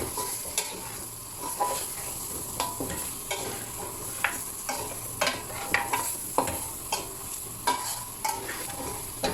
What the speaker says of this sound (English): fry all of this together for a minute